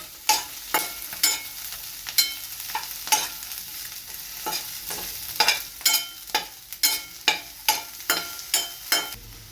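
Paneer frying in a pan with garlic and green chillies: a constant soft sizzle broken by a rapid series of sharp, close spatula stirs and scrapes, with no talking.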